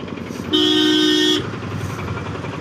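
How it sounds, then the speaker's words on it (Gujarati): Heavy traffic with buses near the Nageshwar temple by Dwarka: one loud, steady car horn sounds for about a second over a constant rumble of engines and road noise. "આ છે અહીંનું ટ્રાફિક"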